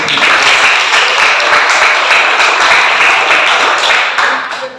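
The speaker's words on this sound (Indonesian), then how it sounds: "berikan tepuk tangan" A room of people claps loudly and evenly for several seconds, the applause thinning out toward the end.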